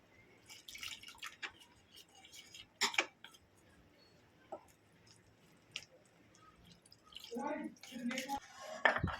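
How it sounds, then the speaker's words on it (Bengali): A thick batter of plain water mixed in a bowl makes sparse wet squishes, drips and utensil clinks against the bowl, close and fairly quiet with gaps between strokes. "নর্মাল জল নিয়েছি অল্প অল্প দিয়ে ঘন একটা ব্যাটার বানিয়ে নেব"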